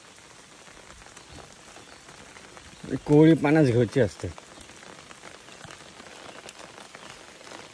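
Rain falls steadily in a forest as the monsoon begins, a soft continuous patter and hiss throughout, with a person briefly speaking over it partway through.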